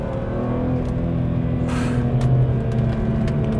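A BMW M3 E46 accelerating hard out of a corner, a loud, steady engine drone holding its pitch with a brief rushing burst midway, close to the listener, with no talking.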